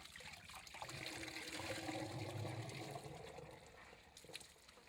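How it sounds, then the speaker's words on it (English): Liquid slurry pours into the main chamber of a biogas digester as a soft, distant trickling gush that swells and then eases, faint throughout, with no voices. "The liquid is then released into the main chamber."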